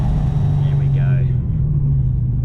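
Supercharged Holden VF Commodore driving along, a steady loud engine drone and rumble with a faint rising and falling whine near the middle, close and continuous throughout.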